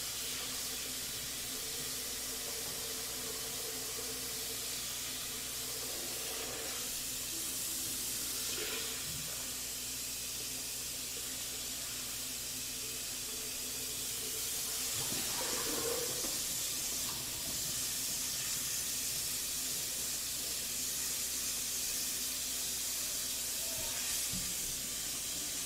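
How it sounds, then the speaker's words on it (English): Bowls are rinsed under a running kitchen tap, a steady broad hiss of water with occasional faint clinks, continuous and close. "Rinsing bowls with the sink is so much easier than my old place."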